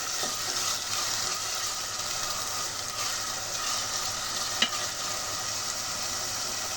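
Chopped onion frying in oil for a chicken curry, giving a continuous dense sizzle throughout, with one brief clack of a utensil near the end.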